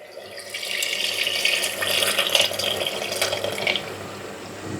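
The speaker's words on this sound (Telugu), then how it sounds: "పులుసు పోసుకుందాం." Okra tamarind stew, bendakaya pulusu, is poured into a pot with a steady splashing, gurgling liquid stream that swells and fades over a few seconds, close and without talk.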